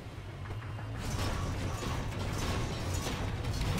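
Mechanical clanking and creaking of a robot moving in Wolfenstein: The New Order, a steady grinding of gears and joints that grows louder after the first second and carries on at an even level.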